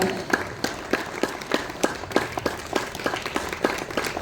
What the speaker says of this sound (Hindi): ताली बजती रहे, ताली रुकनी नहीं चाहिए